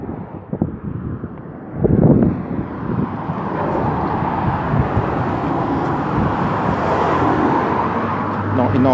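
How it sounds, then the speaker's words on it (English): Strong gusty wind buffets the microphone on a road bridge over the railway at Hilsea near Portsmouth, a loud continuous roar with passing traffic underneath and no talk. "It's a bit windy."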